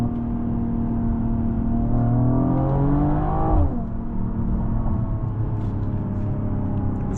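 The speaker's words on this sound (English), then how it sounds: "you can hear those burbles from the exhaust" Engine and exhaust of a 2024 Mercedes-AMG GLE 53 SUV, heard from inside on a drive, a steady close rumble with a rising rev around the middle that drops back, without any distinct separate burble pops standing out.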